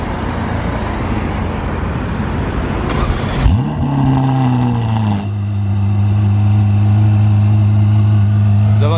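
Ferrari F8 Tributo cold start: an engine catches with a sharp rising crank around the fourth second, then settles into a loud, steady, droning idle close by as the valves close.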